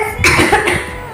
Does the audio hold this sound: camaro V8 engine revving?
no